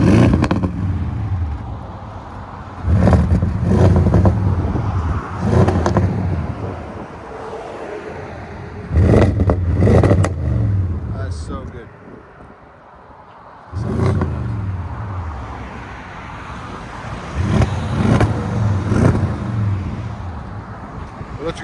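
An Audi S7 twin-turbo with new aftermarket exhaust revs repeatedly: loud, close bursts of engine roar separated by brief idle lulls, with wind buffeting the microphone.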